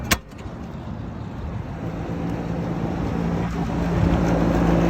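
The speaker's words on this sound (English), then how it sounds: "Alright, my fan is running." A rooftop HVAC unit's condenser fan runs steadily, a loud broad whir with low mechanical hum that builds slightly and holds without pause, close by and alone.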